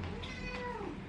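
A tabby cross cat gives a single drawn-out meow close by, a short clear call heard on its own.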